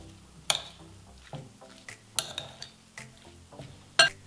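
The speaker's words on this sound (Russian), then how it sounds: "Осталось хорошенечко перемешать" Spoon or utensils stirring a dressed cabbage salad in a bowl, a few distinct clinks and scraping sweeps at irregular intervals, close and moderately loud, with no talk.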